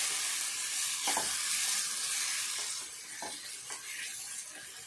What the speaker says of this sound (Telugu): ఇట్లా ఫ్రై కావాలి